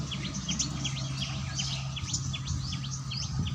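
Sparrows chirp among flowering coral jasmine trees, quick bright repeated tweets from several birds over a steady low hum and faint insect buzz, with no talk.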